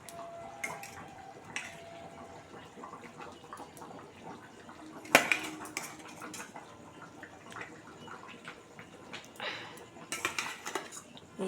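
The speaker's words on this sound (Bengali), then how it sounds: "এবার আমি এক এক করে ডিমগুলো দিয়ে দেবো এর মধ্যে।" Eggs are dropped one by one into a simmering potato curry, bringing clinks of a utensil against the pot and a sharp knock midway, over a soft bubbling bed with faint talk at times.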